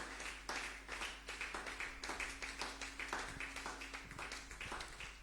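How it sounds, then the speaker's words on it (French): Church congregation clapping to acclaim the Lord, a steady rhythmic patter of many hands at moderate distance, fairly faint, with a low hum underneath and no talk. "Que quelqu'un acclame le Seigneur."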